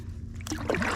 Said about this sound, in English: it's nice paddling